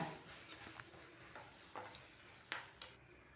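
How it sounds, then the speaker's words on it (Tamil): Shallots, garlic and dried red chillies, with curry leaves, sautéing in a pan: a quiet, steady sizzle with a few light stirring scrapes and clicks, no voices. "வெங்காயம் கொஞ்சம் கலர் மாதிரி வர வரைக்கும் நம்ம வதக்கி எடுத்துக்கலாம்"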